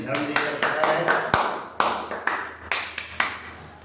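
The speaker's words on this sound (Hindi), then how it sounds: "इसके लिए तालियां हो जाए आर्यन से" Students in a maths class clap for a classmate, with a few separate sharp claps in an uneven rhythm while a voice talks underneath, close and fairly loud.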